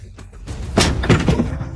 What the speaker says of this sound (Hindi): बिना देरी करे तेजी से सामने के दरवाजे पे एक लात मार दी